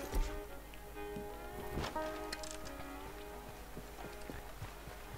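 Horse hooves clip-clopping at a steady trot across open ground in Red Dead Redemption 2, a light rhythmic patter of footfalls throughout, with ambient game sounds around them.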